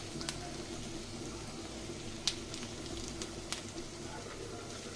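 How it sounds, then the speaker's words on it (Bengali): Onion and garlic frying in a pan while a leaf bharta is being made, a soft continuous sizzle and crackle with occasional small pops, faint and steady. "সুন্দর করে আমি ভেজে নিচ্ছি পেঁয়াজ রসুনগুলোকে।"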